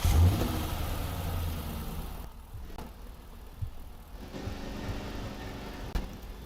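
A spawned car in a Roblox Studio game gives off a synthetic engine sound, loudest at the start with a revving burst, then settling into a steady mid-pitched idle hum broken by a few brief clicks.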